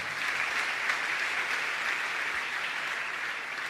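A church congregation applauding together, a dense, steady wash of clapping from many hands that holds evenly throughout with no voices over it.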